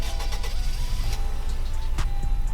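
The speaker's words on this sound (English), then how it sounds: "Here's the rev, which I think sounds beautiful." A car engine revs in the Roblox Greenville driving game, a single-muffler sedan or coupe, giving a steady close droning growl with a low rumble and a few sharp clicks and pops along the way.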